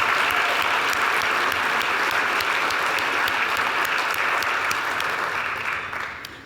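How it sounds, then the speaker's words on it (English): Steady, dense applause from a large audience at a veterinary college's 75th anniversary ceremony, sustained at an even level before fading near the end. "Let's give Victoria one more round of applause."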